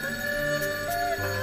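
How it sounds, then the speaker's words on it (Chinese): A telephone rings indoors in a wartime drama scene, a steady electronic bell tone that holds and shifts pitch for a moment, fairly loud and alone without speech. "终于他妈的响了，那玩意儿叫电话。"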